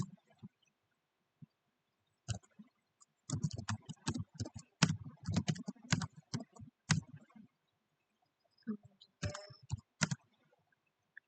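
Code being typed on a computer keyboard: close clicking keystrokes in bursts with short pauses between them, fairly quiet and with no one talking over them.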